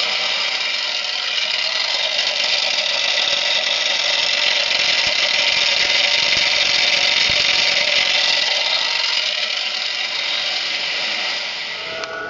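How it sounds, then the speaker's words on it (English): A loud, steady buzzing drone from the vibrator motor on an A-1 gasifier runs continuously and close, briefly dropping in level near the end, with no talking. "I'm just going to show you just quickly how the vibrator works when I flick it on"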